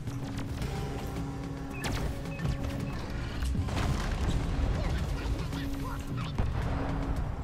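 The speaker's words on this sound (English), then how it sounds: "I am using my lovely explosions." Explosions in the video game Deep Rock Galactic: several heavy, rumbling blasts burst through a dense, noisy battle soundscape, with players talking over the action.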